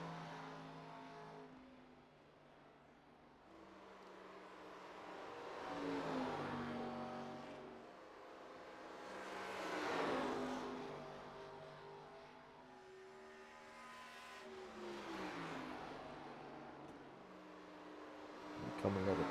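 Race car in a racing video game at Dover accelerating out of turn four, its engine note rising and falling in repeated revving sweeps at moderate level, with a voice commentating over it.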